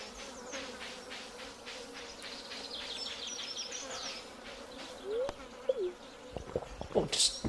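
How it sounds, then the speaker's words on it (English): Bees buzz in the Stardew Valley video game, a steady insect drone at moderate level with a few short game chimes and clicks near the end; no talking. "These bees are so unnerving."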